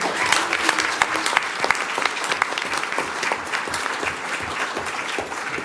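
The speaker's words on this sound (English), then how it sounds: "I think that deserves a round of applause." At a county school board meeting, the room breaks into steady applause for teacher grant awards, a dense, even clatter of many hands close by that holds for several seconds.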